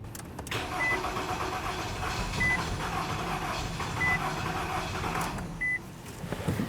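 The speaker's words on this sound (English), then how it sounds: "let's pause here and attempt to start the vehicle" A 2012-2018 Nissan Altima 2.5L four-cylinder is cranked after an intake manifold replacement. A steady starter whir runs throughout with no clear catch, and a chime beeps four times at even intervals over the cranking, with no talk.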